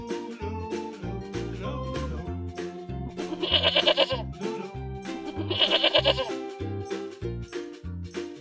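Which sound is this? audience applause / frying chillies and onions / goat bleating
goat bleating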